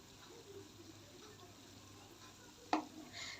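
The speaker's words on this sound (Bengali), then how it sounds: "এই তো সবগুলা আমি উল্টিয়ে পাল্টিয়ে এখন ভেজে নিব।" Mango rasbora dumplings fry in hot oil in a home kitchen, giving a quiet, steady sizzle. Near the end there is one short clatter, as if they were stirred or turned.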